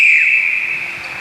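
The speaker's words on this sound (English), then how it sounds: "On the whistle." A referee's whistle at a 1995 netball match, Sydney Electricity versus Melbourne, gives one loud, steady blast that starts strong and fades slightly over about a second, alone with no talk.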